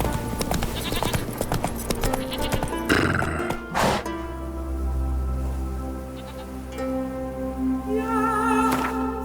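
Roach, the horse in The Witcher 3 video game, gallops with rapid hoofbeats and then gives a loud, drawn-out neigh that rings out close and clear.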